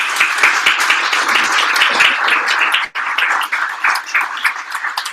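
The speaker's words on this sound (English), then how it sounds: "One last round of applause, David." An audience at a WordPress meetup breaks into applause, a fairly loud burst of many hands clapping steadily, with a brief dip midway before the clapping resumes and slowly thins out.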